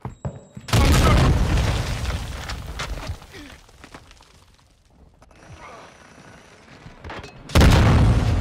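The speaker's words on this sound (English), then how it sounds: "Throwing Semtex!" A Semtex grenade blast in Call of Duty: Modern Warfare II erupts in a loud, sustained boom, then decays into quieter mechanical game noise before a second powerful explosion bursts near the end.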